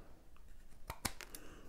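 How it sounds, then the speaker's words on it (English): Scissors snip across card while trimming the edges of a handmade Christmas card, a few quick crisp cuts close by, faint and without talk. "you just take your scissors and go across like that."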